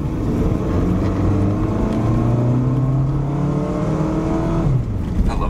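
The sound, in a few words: car engine revving while driving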